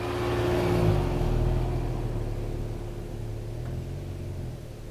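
A 2025 Ford Maverick Tremor compact pickup drives off-road, a steady low engine drone and rumble with broadband road noise, fairly quiet and continuous.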